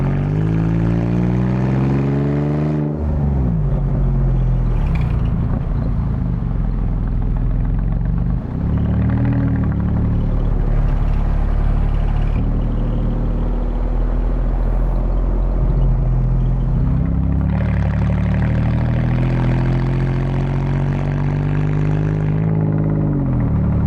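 A bare-shell Mercedes 300SL widebody with a supercharged AMG engine swap runs nearby, a loud, continuous, deep mechanical drone whose pitch swoops up and down as it is revved near the start and again later.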